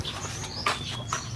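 Young pigeons at a loft giving soft coos and a few thin chirps, brief and close, over a low steady background hum.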